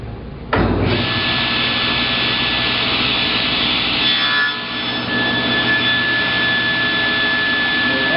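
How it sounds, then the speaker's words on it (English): A saw cuts wood to length on a crosscut sled, starting abruptly and holding a loud, continuous whine with a slight dip partway through. "I can easily cut things to length"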